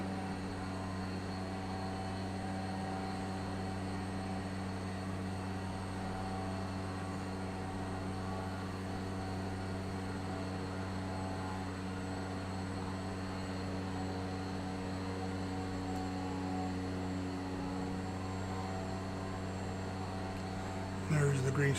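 A light aircraft engine in a flight simulator hums steadily with a constant tonal drone, fairly quiet and unchanging, as the throttle is eased back.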